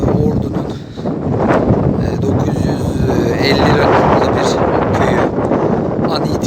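Strong wind buffets the microphone on a hilltop overlooking a Black Sea village, a constant roaring rumble, gusting unevenly throughout without letting up.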